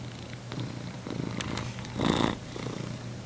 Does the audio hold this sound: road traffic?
no